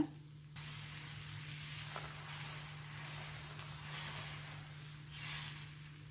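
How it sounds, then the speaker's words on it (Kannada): Dosa batter hits a hot pan with a sudden loud hiss that holds as a steady, close sizzle and swells slightly twice toward the end, with no talk. "ಇವಾಗ ಇನ್ನೊಂದು ದೋಸೆ ಹಾಕ್ತಾ ಇದ್ದೀನಿ"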